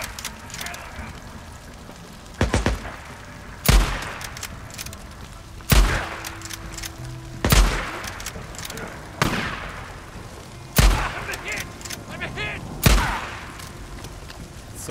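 Gunfire cracks through a Days Gone firefight, about seven loud separate shots spread unevenly over the span and ringing out above a steady rain-like ambient backdrop.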